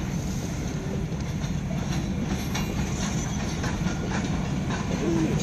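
A CSX local train led by a GE ES44AC locomotive rolls past, a continuous rumble of engine and wheels with rhythmic clacking on the rails at moderate distance and no voices.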